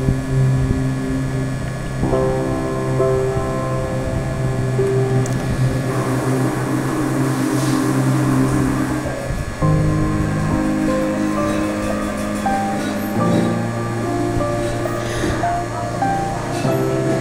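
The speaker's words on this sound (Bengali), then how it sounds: "আমি যখন বেগুনি ভাজছিলাম তখন হঠাৎ শুনলাম প্লেনের শব্দ" An airplane passes overhead while eggplant fritters fry indoors by a window, a loud, continuous broad roar that swells toward the middle and holds steady, with tonal hums layered over it and no talking.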